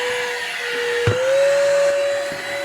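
A Milwaukee Packout vacuum runs with a loud, steady motor whine whose pitch shifts upward briefly after a small knock, then holds level with no talking.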